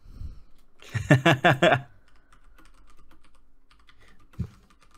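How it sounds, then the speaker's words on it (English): Quick typing on a computer keyboard up close, a short burst of about six rapid key clicks, followed by faint scattered taps and near silence. "I might just type it."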